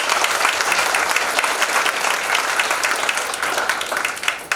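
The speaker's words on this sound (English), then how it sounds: "Let's give it a round of applause." An audience at a foundation's annual day event gives a steady, dense round of applause that fills the hall for several seconds and then begins to thin out near the end.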